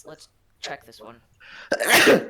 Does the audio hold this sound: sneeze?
yes